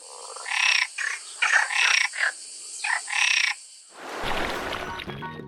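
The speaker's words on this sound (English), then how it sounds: "It's a frog." A frog croaks in a string of six or seven loud, raspy bursts with short gaps between them, close up and clear, before a rough broadband rustle takes over at the end.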